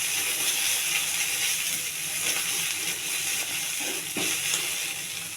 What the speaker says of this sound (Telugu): కొద్దిగా అల్లం వెల్లుల్లి పేస్ట్ వేయాలండి, ఎక్కువ వేయద్దు. ఇది కూడా పచ్చివాసన పోయేంత వరకు వేయించుకోవాలి.